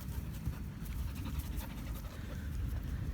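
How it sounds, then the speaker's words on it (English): A rescue dog pants steadily up close, quick rhythmic breaths forming a continuous low huffing texture for a few seconds with no voices. "And she is the most adorable dog ever."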